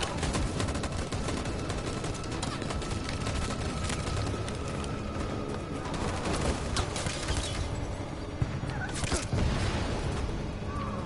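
A sustained volley of gunfire in Detroit: Become Human, dense overlapping shots and booms rolling continuously at high loudness for over ten seconds with no pause.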